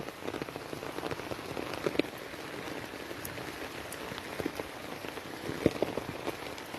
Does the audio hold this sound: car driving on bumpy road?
no